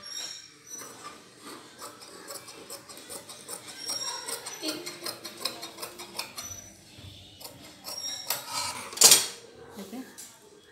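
Scissors trim leftover fabric from a suit collar, making a run of close metallic snips and clicks at an uneven pace with light rustling, ending in one sharper clack near the end.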